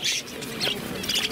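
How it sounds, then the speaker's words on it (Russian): Budgerigars crowd together at a bird market, giving off quick, overlapping high chirps and twitters in short bursts, moderately loud and close, with no voices. "Очень много попугаев."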